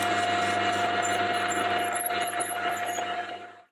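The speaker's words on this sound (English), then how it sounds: "I'm just going to drill it and hope for the best." A drill bit opens a hole out to 8mm in a metal part for a spring winder, a steady whining hum with a faint squeal that runs continuously, then tapers off as the drill stops.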